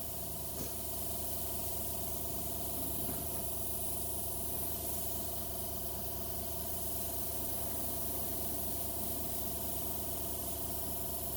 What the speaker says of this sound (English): And keep moving the airbrush around